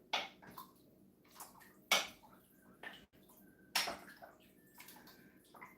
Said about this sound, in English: So I'll stir it.